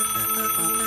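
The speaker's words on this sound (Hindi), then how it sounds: "बंदूकनी जी को फोन करना ही होगा।" A cartoon telephone ringing in a Hindi kids' show, a loud, steady electronic ring tone lasting just under a second, with no talking.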